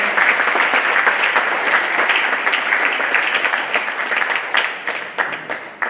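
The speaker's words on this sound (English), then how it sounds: "Let's please have one more round of applause for all our musicians today." Audience applause for the musicians at a Bharatanatyam arangetram, a full, sustained wash of many hands clapping that holds steady across the whole stretch with a few sharper claps near the end.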